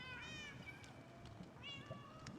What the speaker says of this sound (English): Kitten sounds are so cute.